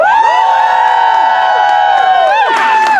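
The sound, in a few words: audience cheering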